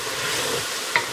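The bottom of a cooking pot holding pork belly and red kidney beans is scraped clean with a utensil against a bed of sizzling, with one brief sharper scrape near the end.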